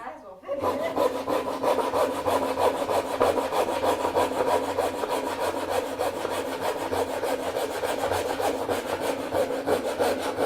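A saw rasps steadily through wood, a loud, continuous rhythmic cutting that starts abruptly and carries on without pause for about ten seconds.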